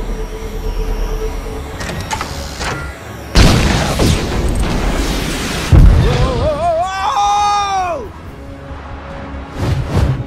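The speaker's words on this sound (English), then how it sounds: "I'm reading an incoming ship. Watch out! It's about to open fire!" Explosive booms and blasts from an incoming ship opening fire in the Lego Marvel Super Heroes game, loud broadband bursts with a rumbling low end, followed by a rising electronic whine, with a voice speaking over part of it.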